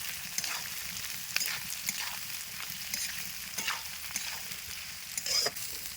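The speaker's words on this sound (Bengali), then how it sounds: "তেল গরম হয়ে গেছে এবার পেঁয়াজটা দিয়ে দেবো" Homegrown onions frying in hot oil in a pan over a clay stove, a steady crackling sizzle with occasional stirring scrapes and taps throughout, no voices.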